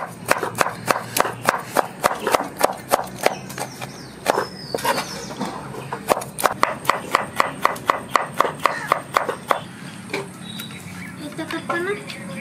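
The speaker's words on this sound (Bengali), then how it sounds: "তাহলে আসুন টমেটো কেটে নিয়ে।" Knife chopping tomatoes on a board in an outdoor village kitchen, a fast steady run of sharp, close, loud chops that pauses briefly near the end, with faint voices and birds behind.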